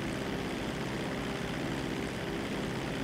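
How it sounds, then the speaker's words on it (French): Steady propeller airplane drone in GTA V, a constant mid-distance engine hum filling the short stretch with no talk over it. "J'arrive avec ton avion là, je l'entends."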